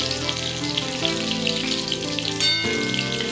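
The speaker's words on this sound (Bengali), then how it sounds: "লাল লাল করে ভেজে নিতে হবে" Chicken pakora deep-frying in oil over a low flame: a continuous crackling, bubbling sizzle heard up close, with a couple of brief clinks or shifts partway through and no speech.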